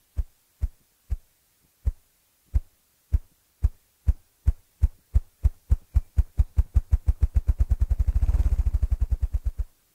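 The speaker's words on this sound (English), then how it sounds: "That's the rough grouse drumming," A ruffed grouse drums with low, muffled wing thumps that start slow and evenly spaced, then speed up steadily into a rapid rolling flutter near the end, heard alone with no talk.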